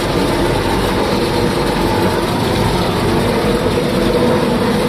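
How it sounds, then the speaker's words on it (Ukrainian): A combine harvester threshes soybeans in a field, filling the air with a loud, dense, continuous mechanical roar and rumble heard up close without pause. "хай побачить, як комбайн молотить"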